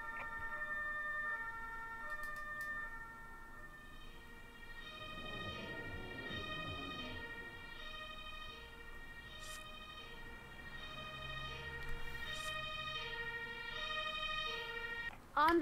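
An ambulance siren in the Emergency 2024 rescue video game wails steadily through the whole stretch at moderate distance, with engine rumble and brief game effects beneath it.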